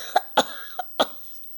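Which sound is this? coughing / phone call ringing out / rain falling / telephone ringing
coughing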